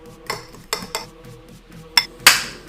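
Utensil mixing egg yolks, kosher salt, pepper and pecorino in a bowl, giving several sharp clinks and scrapes against the bowl at irregular intervals, the last strike brightest, close up with no talk.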